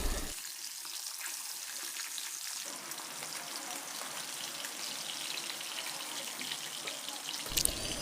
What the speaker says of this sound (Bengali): এবার বাকি মাছগুলিও এইভাবে ভেজে নেব।